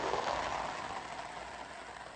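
Heavy storm rain pours down in Vang Vieng, a steady, dense hiss of drops on surfaces holding level throughout with no breaks.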